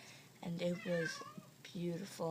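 A pet cat meows several times, drawn-out and close, mixed in with a person talking over it throughout.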